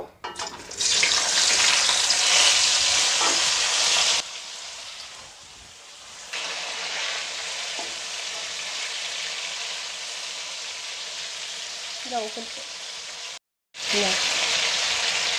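Jujubes (boroi) frying in hot oil for a sweet, sour and spicy pickle give a loud, dense sizzle that drops away, returns softer with faint stirring, cuts out briefly and then surges back.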